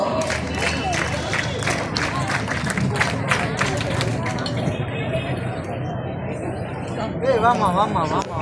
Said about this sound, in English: Claps go.